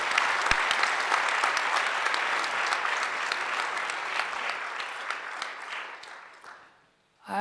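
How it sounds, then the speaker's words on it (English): Sustained audience applause at a conference closing session, a dense, even roar of many clapping hands that gradually tapers and dies away near the end. "Round of applause."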